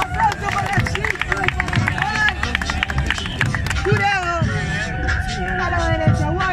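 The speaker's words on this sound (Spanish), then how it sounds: "¡Aplauso para el chico!" Crowd at a regional freestyle rap battle cheering and clapping after a round, a loud continuous hubbub with scattered claps and voices, busy and close throughout.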